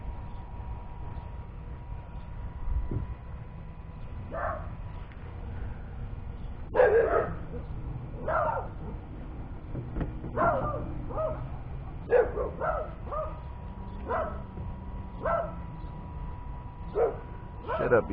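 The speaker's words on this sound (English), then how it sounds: "Shut up, you dumb dogs." Dogs barking in scattered, uneven bursts somewhere near a kayak repair job on a Hobie Kona, with some yips and whimpers mixed in over a low steady background.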